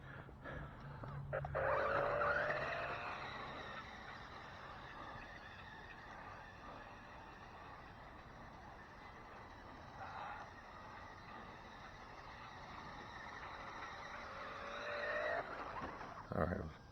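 A Savage off-road 4x4 RC pickup truck whines past in a backyard, its electric motor rising and falling in pitch as it accelerates. The sound is faint against outdoor background noise, and a voice talks briefly.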